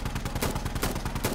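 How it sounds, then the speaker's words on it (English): Rapid bursts of automatic fire from a technical's mounted gun in Insurgency Sandstorm, a steady run of loud, close shots with no talk over them. "Oh, I got eyes on where that technical's shooting from."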